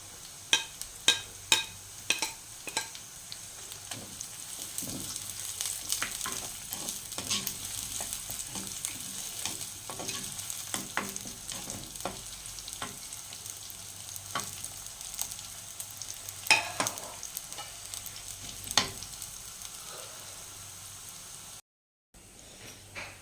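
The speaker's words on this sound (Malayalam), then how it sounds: "അത് ഒരുവിധം ചുവന്ന് വരുമ്പോൾ നമുക്ക് അരിഞ്ഞു വെച്ചിരിക്കുന്ന ചുവന്നുള്ളി കൂടെ ഇടാം" Chopped shallots sizzle steadily in a pan for a Kerala fish curry, with an even crackling hiss and a few sharp utensil clicks near the start, up close and without talk.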